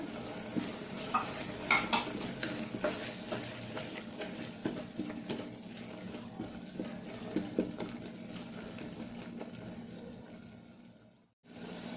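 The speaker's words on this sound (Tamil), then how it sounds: "இப்போ இது நல்லா பச்சை வாசம் போன அளவுக்கு கொடுணும், நல்லா வதங்கணும்." Tomatoes and green peas being sautéed in a pan for coconut milk tomato rice, with repeated spoon scrapes and stirring over a steady low sizzle, close and alone, ending in a brief drop to silence.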